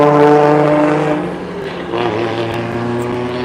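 A loud drift car engine revs and drones nearby at a drifting practice in Cyprus, its pitch dipping then rising again, with a strong buzzing tone throughout.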